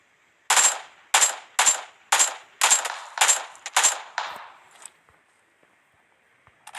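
PUBG Mobile AK rifle fire cracks out in seven or eight sharp, evenly spaced shots over a few seconds, loud and close, then trails off into quiet with a faint click at the end.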